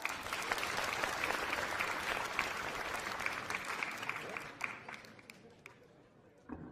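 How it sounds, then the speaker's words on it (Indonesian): Steady applause from a film audience greeting a young aspiring magician at a magic show, dense and continuous, then thinning and fading toward the end. "Tepuk tangan buat Iwan."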